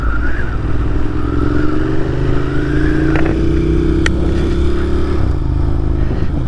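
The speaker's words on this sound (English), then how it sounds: "there's just nothing in the world that sounds like a Ducati" A Ducati Monster 1200S motorcycle's exhaust pulls loud and close through a long run of acceleration, its note climbing steadily through the gears, with no talking.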